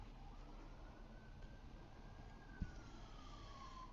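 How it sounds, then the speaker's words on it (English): Emergency siren on a distant street, a faint wailing tone sliding slowly downward as the vehicle passes, heard over a steady background rumble with one brief knock. "we have an obligatory siren coming by, so let me let that go by before I play this"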